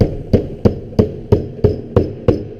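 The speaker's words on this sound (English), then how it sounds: "you'll take your sheet metal hammer and you'll work the corners over" A sheet metal hammer taps the corners of a Pittsburgh corner lock seam on a fitting, eight sharp, evenly spaced metallic knocks about a third of a second apart, close and clear over a low background hum.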